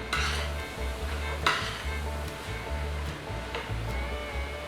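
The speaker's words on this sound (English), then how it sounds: "Now we're gonna add them to the chili and give that a stir and continue to let it cook down." Rinsed kidney beans are stirred into a pot of homemade beef chili as it cooks down, giving a continuous scraping stir with a few clinks of the utensil on the pot over a steady simmering sizzle.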